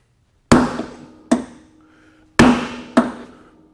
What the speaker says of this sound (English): we'll put the old sledgehammer on it